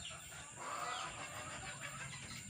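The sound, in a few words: rooster clucking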